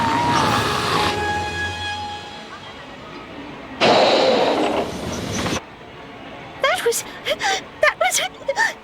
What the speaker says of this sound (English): The ghost train's brilliant!